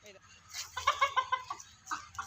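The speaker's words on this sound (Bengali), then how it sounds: "আমার এই মুরগিটা অনেক বড় দেখেন" A large backyard hen clucks in a rapid run of close, bright calls, with a few more clucks after a short pause, over a faint low background.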